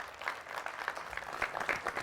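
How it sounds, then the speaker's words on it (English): Faint audience applause, a soft steady patter of clapping from a crowd, brief and somewhat distant. "Big round of applause."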